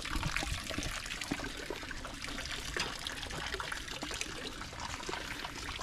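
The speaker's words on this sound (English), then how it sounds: "Perform a little cleansing ritual with the water?" Water pours from a ladle at a Japanese shrine purification basin for ritual hand washing: a close, steady splashing trickle that runs for about six seconds with no talking.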